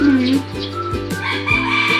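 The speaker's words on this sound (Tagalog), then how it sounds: "Ay, manok." A rooster crows nearby, a short harmonic call with clucking fowl around it, over a steady low background hum.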